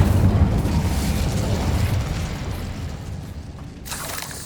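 A fire spell bursts in Hogwarts Legacy with a dense roaring rush that sustains loudly, then fades to a low rumble and ends with a brief crackling flare.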